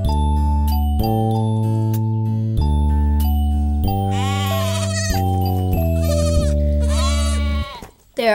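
Cartoon sheep bleat in several wavering, high calls over a bright, steady children's music track, loud and close, with no speech.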